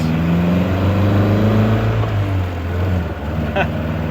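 A 1962 Triumph TR4 drives along a back road, its engine droning steadily and close, with pitch shifts around a gear change midway and some bumpy knocks, alone without talk.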